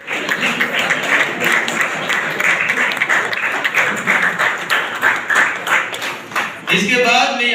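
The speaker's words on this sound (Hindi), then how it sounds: "जोरदार तालियां बजाकर" Loud applause from an audience at a diocesan animators' leaders training meeting, steady dense clapping for about seven seconds before a voice begins speaking at the end.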